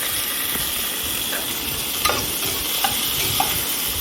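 Onions and tomatoes sauté in a pan, a steady close sizzle and hiss with a few soft stirring clinks on top, no voices.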